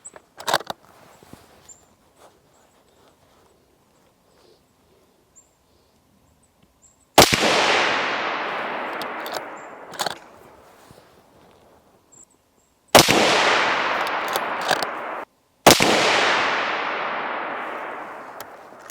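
Three loud rifle shots from a DiscoveryOpt LHD 4-16x44 scoped rifle during outdoor scope testing, each a sharp crack with a long rolling echo, spaced several seconds apart after a quiet stretch of faint handling noise.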